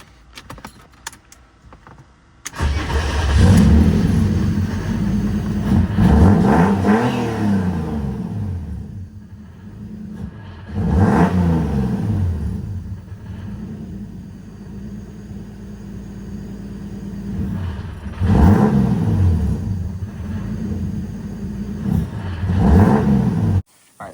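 Turbocharged BMW E36 engine, recently rebuilt after a fire, cranking and firing up after a short pause, then revved several times in loud, close surges that fall back to a rough idle between blips.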